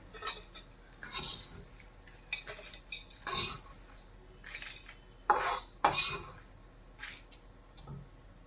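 A spoon clinks and scrapes against a kadai as lightly fried ingredients for Andhra gongura pickle are lifted out onto a plate, with several sharp metal taps and scrapes at irregular intervals, close up.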